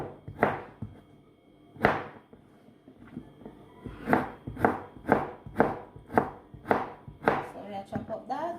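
A kitchen knife chops carrot slices on a cutting board for Jamaican-style rice and peas, giving about a dozen sharp, close thuds in an uneven rhythm with short pauses between them.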